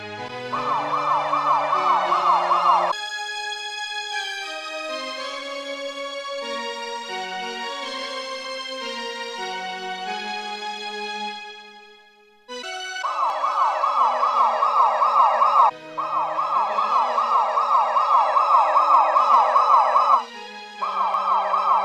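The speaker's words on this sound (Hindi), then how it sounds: "अभी मैं एम्बुलेंस बुलाता हूँ।" An ambulance siren wails loud and close after a road accident, its rapid warbling cycle sounding steadily, dropping away briefly near the middle, then returning with short breaks.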